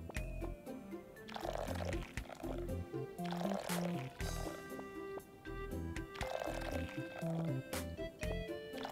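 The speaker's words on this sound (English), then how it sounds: "I need to sort out my watering pack. Maybe fill it with water," Watering pack being filled with water in the game Little Known Galaxy, a burbling liquid fill effect over background game music with repeated splashy bursts.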